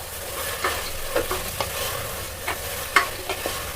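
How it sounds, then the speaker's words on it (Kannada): Potato pieces for sambar are stir-fried in a pan, with a steady sizzle under irregular scraping and clacking strokes of a spatula, fairly close and with no talking. "ಈಗ ಒಂದು 2 ನಿಮಿಷದವರೆಗೂ ಚೆನ್ನಾಗಿ ಫ್ರೈ ಮಾಡ್ಕೋಬೇಕು"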